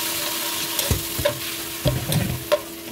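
Shrimp hitting a hot pan for buttered shrimp, crackling sizzle with several sharp clanks and scrapes of stirring, close and fairly loud, no talking.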